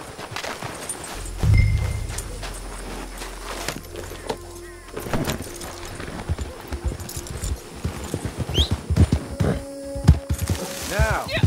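Steady clip-clop of horse hooves on hard ground in Red Dead Online, close and rhythmic, with faint mechanical clicks and clanks in the background.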